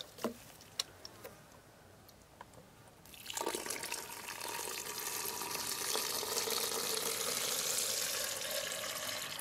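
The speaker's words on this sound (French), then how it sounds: "Ça fait au moins la troisième fois, quatrième fois que je remplis cette bouteille-là." Water poured from a container into a bottle in a garden, a steady rushing fill that starts after a few seconds of quiet with faint taps and insects, then continues loud and close.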